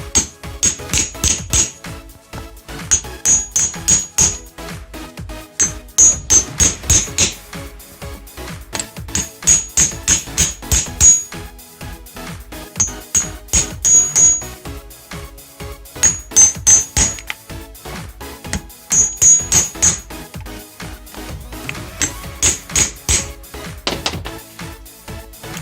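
A hammer taps on a ball joint of a Volvo XC70 in bursts of rapid, sharp metallic strikes, repeated in clusters with short pauses between them, close and clear.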